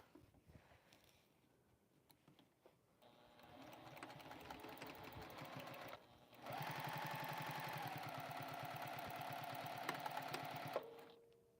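A Juki sewing machine stitches a quarter-inch seam, its rapid mechanical chatter starting moderately, pausing briefly, then running faster and louder for several seconds before stopping, fairly close and with no talking.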